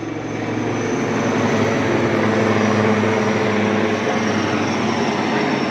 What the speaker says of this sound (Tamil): உங்களுக்கு மேலே ஏதோ ஹெலிகாப்டர் போயிட்டுருக்கு